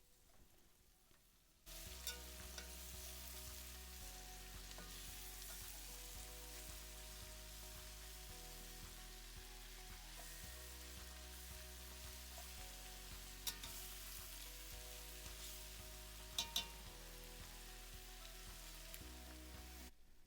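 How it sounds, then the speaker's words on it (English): Green and red peppers and other vegetables sautéing for Polish goulash, a steady soft sizzle with a low background hum running throughout, with a couple of small clinks near the end. "start to saute the vegetables with this"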